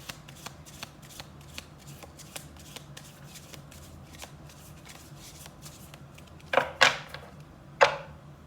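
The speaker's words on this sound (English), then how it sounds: "Let me do one more shuffle." Oracle cards shuffled by hand: a string of soft, regular riffling taps, then a few louder, sharper bursts of cards snapping together near the end, close and alone.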